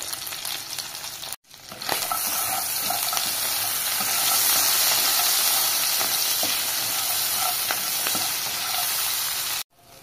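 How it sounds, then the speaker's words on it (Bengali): Pieces of crab fry in hot oil with salt and turmeric, giving a steady, loud sizzle with a few brief breaks and light stirring scrapes. "কাঁকড়াটা ভাজা ভাজা হয়ে গেছে"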